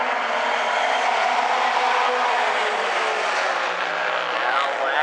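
FSCRA late model race cars roar around South Sound Speedway during a heat race, a dense, continuous engine drone that stays loud and steady throughout.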